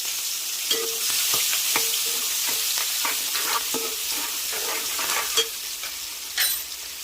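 Onions frying and being stirred in a pan for goat head curry, a steady loud sizzle with intermittent scraping stirs close by.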